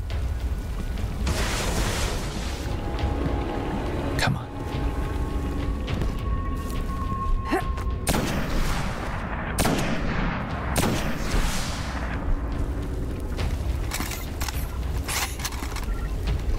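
Rocket launcher fire and explosions in the video game Destiny: The Taken King, a dense, continuous barrage of booming blasts and gunfire-like cracks with several sharp louder hits, loud and close throughout.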